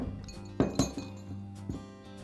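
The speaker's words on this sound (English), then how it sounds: "I'll give it a tap with the mallet." A mallet taps a DeWalt angle grinder's gear case and bearing retainer into place, giving a few sharp knocks in the first second followed by a softer tap, over a faint background hum.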